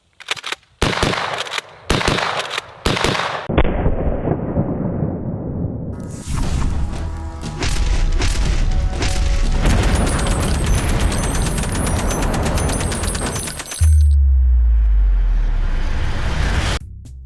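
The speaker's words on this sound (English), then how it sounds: "This is the DP-12, first ever double barrel pump action shotgun." A DP-12 double-barrel pump-action shotgun fires several loud, sharp blasts in quick succession, then the roar of sustained heavier firing and a deep rumbling burst, all close and loud with no talking.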